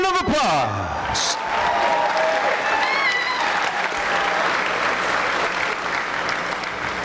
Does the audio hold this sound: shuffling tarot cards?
no